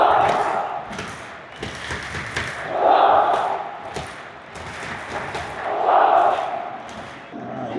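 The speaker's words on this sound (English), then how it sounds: "Listen to the crowd." Football stadium crowd at a Jordan versus South Korea match, a dense roar that swells into two loud surges of cheering amid scattered drumming and thuds, with a commentator's voice faintly beneath.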